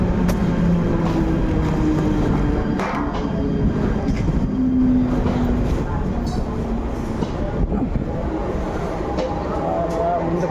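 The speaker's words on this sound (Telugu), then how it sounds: "ట్రైన్ ఎక్కేద్దాం లేదంటే మిస్ అయిపోతుంది ట్రైన్" Train standing at a busy station before leaving for Mumbai on a Vizag to Mumbai journey: a loud, steady rumble of engine and platform noise with brief squeals, and people talking throughout.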